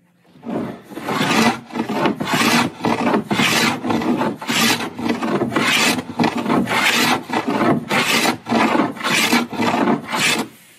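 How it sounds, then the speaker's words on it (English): A hand plane shaves wood along the chines of a boat under construction, making repeated rhythmic rasping strokes about once a second, loud and close, with no talking. "Let's do some planing."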